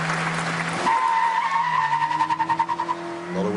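Sebastian Vettel's Formula One car on a lap, engine note rising and wavering as the wheels spin and skid briefly, loud and close, then settling to a lower drone.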